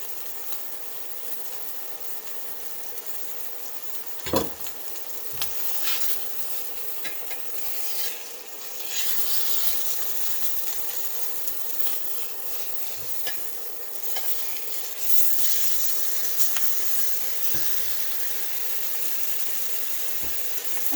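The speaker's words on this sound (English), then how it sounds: "I just want to sear it. I don't want to cook it. So I've got it on high." Steak searing on high heat in a Pampered Chef Multi Cooker, giving a steady, fairly quiet sizzle throughout with a few soft clicks and knocks, and no talking.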